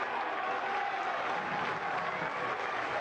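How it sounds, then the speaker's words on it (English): A steady, dense roar of crowd cheering and applause fills a soccer stadium during a Lexington SC versus San Antonio FC match as play builds toward a corner kick, constant and loud throughout with no clear breaks. "Crowds come to life here."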